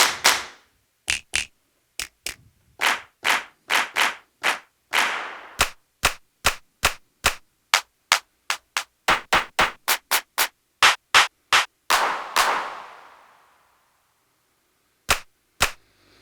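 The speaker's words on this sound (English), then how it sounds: "Let's stick with a real clap." Sharp, dry sampled handclaps played from a pad on a Roland MC-707 groovebox, firing one after another in quick irregular taps and short bursts, loud and close, with brief reverberant tails and gaps of silence between hits.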